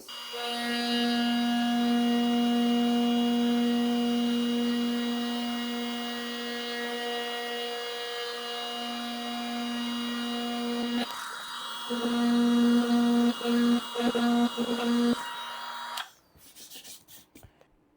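A Parkside 12V precision sander-grinder, model PPFBSA 12 B2, runs with its side handle attached, a steady close whine with strong harmonics that stutters and pulses near the end before cutting off.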